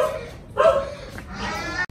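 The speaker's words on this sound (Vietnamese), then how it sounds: "Nhà đang có khách các bạn, thế nên là chó nó cứ cắn rộ lên" Dogs at a Vietnamese home barking at arriving visitors, a few moderately loud barks and yips heard from nearby over quiet background.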